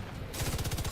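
Gunfire in The Division 2, a shotgun-style weapon firing in a fast, steady burst of repeated loud blasts at close range after a brief quieter lead-in.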